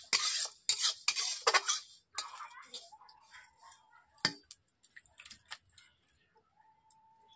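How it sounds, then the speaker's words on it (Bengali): Spices and chillies dry-roasting in a wok, with sharp scraping stirs and clinks of a spatula against metal, then quieter scattered ticks and crackles as the stirring slows. "মশলাটাকে আমি ভেজে নিচ্ছি ভালো করে।"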